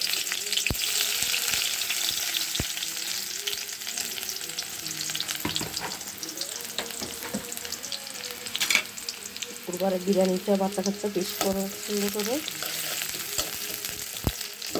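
Onions frying in oil in a wok with cinnamon, bay leaves and cardamom for biryani, a steady hiss and sizzle with occasional stirring clicks while someone talks over it.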